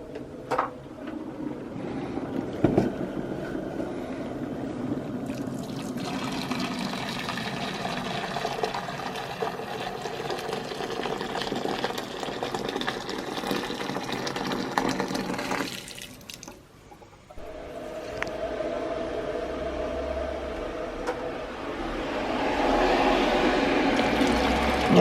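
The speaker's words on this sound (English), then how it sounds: "nice hot water right up to the top" Hot water pours steadily into an ultrasonic cleaning tank for a long stretch, a continuous rushing fill that briefly cuts out, then resumes with a rising, fuller tone.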